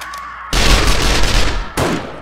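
Gunfire during a Blood Moon horde night in the survival game 7 Days to Die: a dense, loud burst of rapid shots lasting over a second, a short gap, then another burst of fire.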